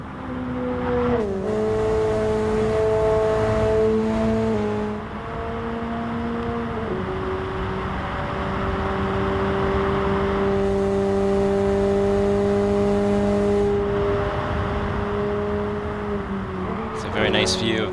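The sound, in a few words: Roadster car racing down Tokyo expressway in video game GT Sport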